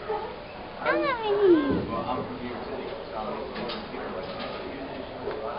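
A Siamese-looking kitten meows in a few rising and falling calls early on, fairly close, while people talk softly around it.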